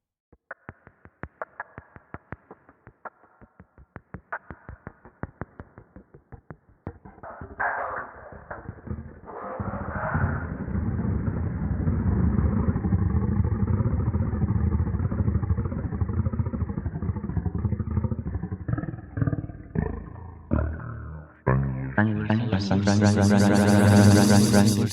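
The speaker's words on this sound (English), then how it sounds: "Granular synthesis" Granular synthesis texture: a stuttering, grainy run of rapid clicks and fragments that thickens into a dense sustained wash, then rises into a bright swelling tone at the end, with no voice over it.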